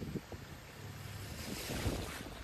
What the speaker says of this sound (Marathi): आता आम्ही आलो नदीला पाणी आलेलं आहे